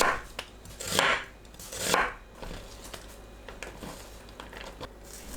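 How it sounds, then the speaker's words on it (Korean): A knife slicing onion thinly on a board, a few louder rhythmic cuts early on then lighter, quicker taps and faint chopping continuing throughout, close and without talk. "양파를 곱게 채 썰어주세요."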